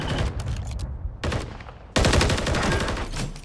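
Loud automatic gunfire in a Modern Warfare 3 multiplayer match: rapid bursts of shots broken by brief pauses, then a sustained, dense volley close up.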